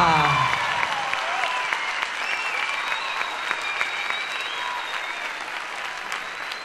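An audience at a drag queen gala in Corralejo claps loudly and steadily, with a few scattered cheers over the sustained applause.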